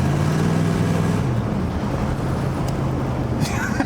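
A 1984 Chevrolet Monte Carlo SS that sat unused for 22 years drives along, its engine a steady low hum with tonal drone, wind and road noise, and faint voices in the cabin.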